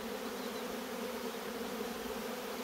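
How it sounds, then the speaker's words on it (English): Dense, steady buzzing of many honey bees around a beehive full of honey, close and continuous with no pauses. "I'm just going to tap all the bees out onto it"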